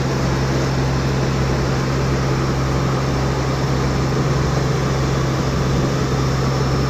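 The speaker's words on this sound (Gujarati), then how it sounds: "તો ભાઈ આ બોટ અત્યારે ભાઈ ચાલુ છે." A motor boat's engine runs steadily on the sea near the Dwarka bridge, a loud continuous mechanical drone with a low hum, heard close and without any voices.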